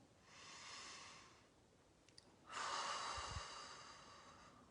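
A person seated in a calm guided meditation takes slow, deep breaths, producing two long, soft, airy rushes of breath that swell and fade, close to the microphone with no talking.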